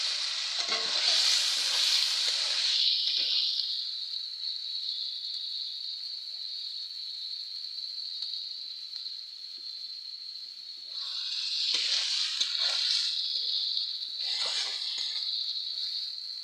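Chicken pieces added to hot fried spice masala for an Assamese chicken curry, a loud sizzling burst with stirring scrapes that settles into a steady hiss, then flares again with further stirring.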